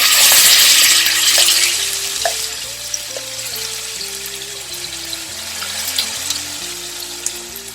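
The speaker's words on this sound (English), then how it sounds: "The pan has become hot, and now we'll add 2 tablespoons of oil. To that we will add this ground masala." Ground masala sizzles loudly in hot oil in a pan, a steady broadband hiss that is strongest at first and then settles into quieter crackling, heard close with no talking.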